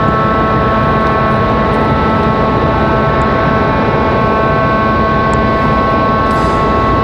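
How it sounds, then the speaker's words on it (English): Southwest Boeing 737 MAX 8 landing at Raleigh-Durham airport, a loud steady jet engine roar with droning tonal hum, continuous and close, no talk. "So Southwest touching down."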